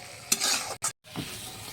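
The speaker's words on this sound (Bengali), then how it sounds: "ওই মশলাটা সুন্দর করে ভেজে নিয়েছি" Spices fry in a pan while being stirred, making close, brief scraping and sizzling strokes broken by a short pause before a softer sizzle resumes.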